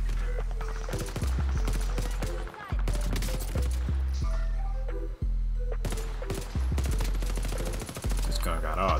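Dense, loud automatic gunfire from Warzone Pacific, rapid bursts with strong recoil running almost continuously, broken by a couple of short pauses, with game sounds layered throughout.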